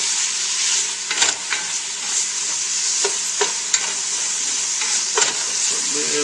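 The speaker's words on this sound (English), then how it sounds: "Okay, so now the ginger, onion, lemongrass, and garlic have been sauteed" Ginger, onion, lemongrass and garlic sauté in a hot pan with a steady bright sizzle, broken by occasional scraping stirs and light utensil taps, close and continuous throughout.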